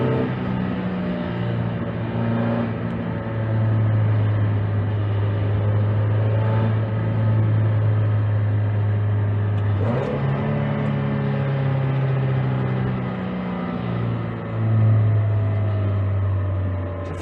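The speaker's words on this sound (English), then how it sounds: "tell me if it sounds particularly weird inside of this vehicle" Interior of a rust-free budget Mazda Miata on the move, with a steady engine drone and road rumble that rise and fall with the throttle, close and constant, no talking.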